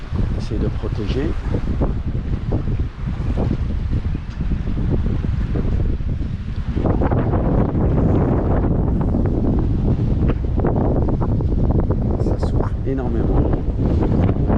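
Strong gusts of wind roar across a microphone on an anchored boat deck off Elba and Corsica, a continuous loud buffeting that intensifies midway, with people speaking under the noise.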